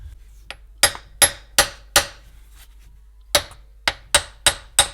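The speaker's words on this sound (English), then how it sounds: "And now you can press the seal with this nut inside." Joint seal on a 1990s Japanese car being pressed into place with a nut: about ten sharp, close taps in an uneven rhythm, separated by quiet gaps, with no talk.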